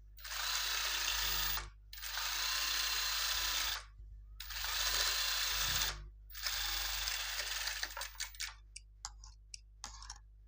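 A sewing machine stitches the waist seam of a grey lace-design blouse in three long, steady runs with short pauses between, then gives way to scattered ticks and clicks, close and clear with no talk.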